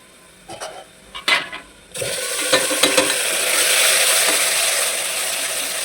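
Masala spices stirred into frying onions for haleem, with a few scraping clatters of a spoon against the pan, then a loud, steady sizzle that persists up close without any talking.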